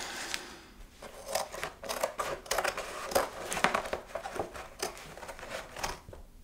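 Scissors cutting through foam for a puppet's mouth plate, a close, busy run of crisp snipping and crunching strokes with an uneven rhythm and no talk.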